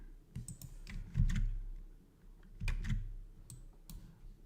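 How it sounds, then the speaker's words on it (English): Typing and clicking on a new computer keyboard, a couple of short bursts of crisp key taps with soft thumps between, close and quiet with no speech. "This is a new keyboard."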